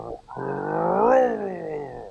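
A voice imitates a deep, rumbling V8-like car exhaust, rising in pitch as if revving, then settling back down; one short, close burst.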